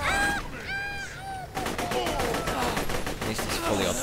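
Fully automatic gun firing in Borderlands 2, a rapid stream of shots after a brief electronic tonal chirping, loud and close.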